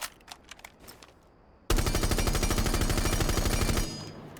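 Sustained automatic gunfire from a weapon fitted with a flash hider in Rainbow Six Siege, a loud, rapid, even burst lasting about two seconds after a few faint clicks, ending abruptly with no talking.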